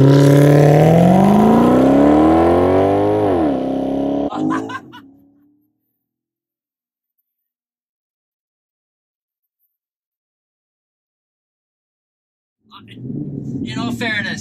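A Maserati races an RC truck, its engine revving hard with rising and dipping pitch before cutting out into long silence, then another engine burst with voices returns at the end.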